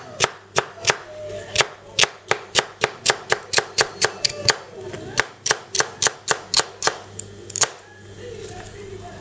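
Rhythmic chopping of food with a Tops Lite Trekker fixed-blade survival knife against a board, about two dozen crisp close knocks in a steady beat, slowing and fading near the end.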